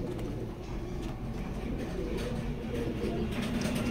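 Racing pigeons in a loft keep up a continuous, dense murmur of overlapping coos against a steady background rumble, with no clear talk.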